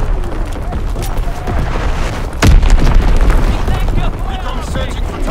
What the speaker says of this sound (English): Fritz X bomb mission on the way.